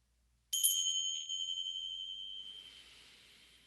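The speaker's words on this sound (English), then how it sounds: "we can start when you hear the sound of the bells" A mindfulness bell is struck once, ringing clear and bright with a pure sustained tone that rings out and slowly fades into quiet.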